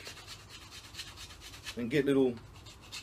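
A knife spine with a ground edge scrapes along a stick to raise shavings, making soft rasping strokes, then a louder scrape near the end. A voice talks faintly under the scraping.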